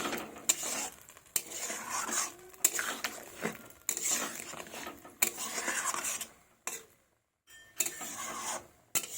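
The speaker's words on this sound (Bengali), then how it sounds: "দিয়ে ভালো করে নাড়াচাড়া করে নেব।" A spoon scrapes and stirs bottle gourd curry in a pot after water is added, a run of close, rough scraping strokes broken by short pauses, with no talk.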